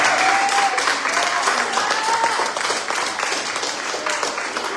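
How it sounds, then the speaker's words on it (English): A church congregation gives a dense, sustained round of applause as praise, loud and continuous throughout, with faint voices and a short sung or called tone rising within the crowd noise. "Would you give the Lord a hand clap of praise?"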